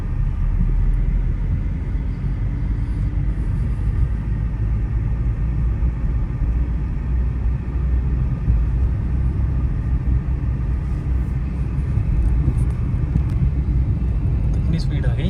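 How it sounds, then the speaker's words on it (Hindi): A learner's car driving on a road in Chandigarh during a basic driving lesson, a steady low engine and road rumble running throughout at a constant level. "स्लो कर लो और घुमाओ गाड़ी को।"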